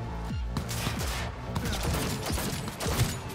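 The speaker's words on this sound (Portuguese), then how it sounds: "estão atirando" Rapid bursts of gunfire crackle continuously in the video game Cyberpunk 2077, dense overlapping shots at moderate distance in a firefight.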